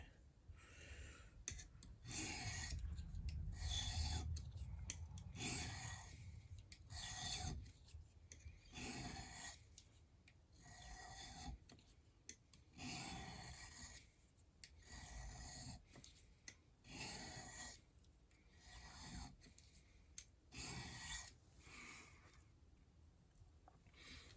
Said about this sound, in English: This is a metal diamond sharpening stone instead of using an Arkansas stone